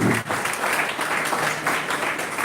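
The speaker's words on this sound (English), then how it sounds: "A big round of applause" A round of applause from the audience at a national-level oratory contest, dense sustained clapping filling the hall at steady volume for a couple of seconds, with no voices over it.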